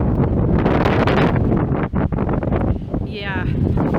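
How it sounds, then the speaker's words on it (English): Strong wind buffets a bicycle rider on the Big Sur coast highway, roaring loudly and continuously with gusty surges, and a voice talks briefly near the end. "Super windy."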